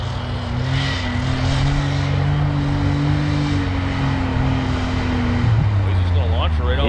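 A 500hp Can-Am Maverick X3 side-by-side engine drones loud and steady, its pitch holding then dropping off before a rising rev near the end, heard up close beneath wind and engine noise.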